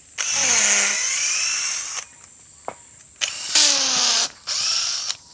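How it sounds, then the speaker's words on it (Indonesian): Power drill boring into a wooden rake handle, several close, loud whining bursts with pitch sliding as the bit loads, separated by short pauses. "Ini kadang-kadang tangannya dibor ini."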